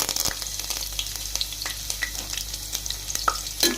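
Cashews sizzle and crackle steadily in hot oil in a pan while being stirred for Telangana-style chicken pulao. Occasional scrapes and small pops sound close up, with no talking.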